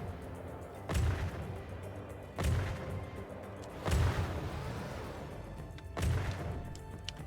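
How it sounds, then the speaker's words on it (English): Four heavy shell explosions strike a destroyer's outer hull in the naval combat game From the Depths, each a sharp booming crash spaced about one to two seconds apart over a steady low rumble. "Explosion on the outer hull."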